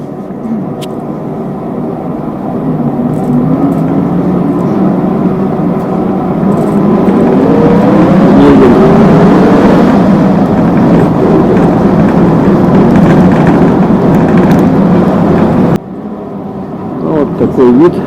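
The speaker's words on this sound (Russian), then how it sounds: "Сейчас сядем на 6-й автобус" Inside a moving city bus, route 6, in Yakutsk: a loud, steady engine drone and road rumble with rising and falling gear whine, briefly dropping near the end before resuming, with some faint talk.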